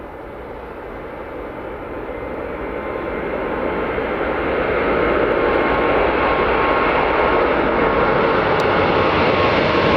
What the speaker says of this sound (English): This is the Emirates 777 to Dubai.